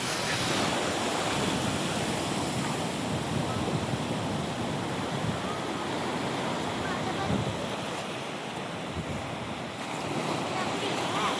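Sea waves washing onto the beach at Muttapathi, a steady broadband roar of surf with wind buffeting the microphone, continuous and fairly loud with no one speaking.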